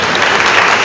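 A school audience applauds at the 24th Foundation Day of Kala Niketan International School in Ghazipur, with dense, loud, continuous clapping from many hands close by.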